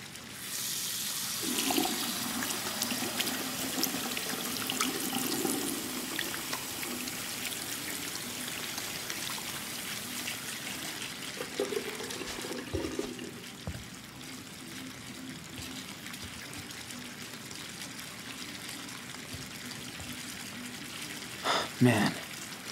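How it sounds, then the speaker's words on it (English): Hot water runs from a tap or shower in the Life is Strange 2 video game, a steady rushing stream over most of the stretch, with people talking at times and a brief clatter near the end. "Man, this hot water is going to feel so good."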